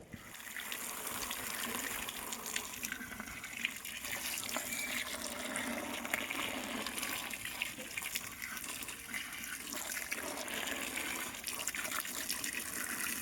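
Water gushes steadily and loudly into a storage tank, a continuous rushing splash that holds even throughout without a break.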